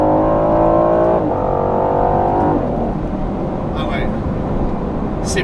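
An Aston Martin Vantage F1 Edition accelerates at full throttle down a straight. The loud engine note climbs steadily through two quick upshifts, with a voice faintly audible over the roar.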